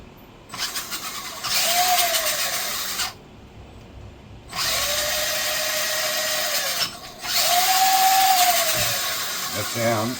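A Tamiya Clodbuster RC truck runs on a replacement motor in three bursts of high electric whine, each with a rising pitch sweep, separated by short quiet gaps.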